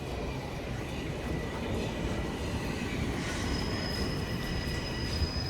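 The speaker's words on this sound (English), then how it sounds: "I want to show you guys the trains, of course." Subway trains rumble through Toronto's Rosedale TTC station with a steady roar, steel wheels squealing, and a thin high whine rising near the end.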